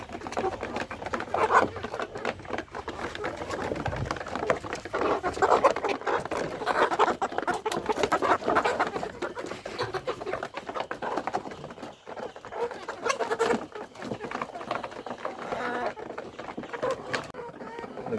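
Kadaknath black chickens crowding in at feeding time in Eramangalam, Malappuram, their pecking patter, scratching and soft clucks close and busy throughout, with a person talking at times.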